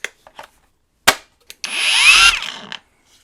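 A VEVOR 20V cordless brushless dual-action random-orbit polisher with a 6-inch hook-and-loop pad runs in a loud, steady whir for about a second, with a few sharp knocks and clicks before it and a quick spin-down after.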